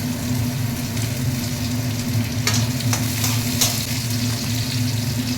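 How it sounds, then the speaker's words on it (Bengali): Onions, garlic and ginger frying in oil with black cumin, a steady bubbling sizzle over a low continuous hum, with a few brief scrapes of a utensil stirring midway. "হালকা ব্রাউন হয়ে গেলে পেঁয়াজগুলো দিয়ে দিলাম"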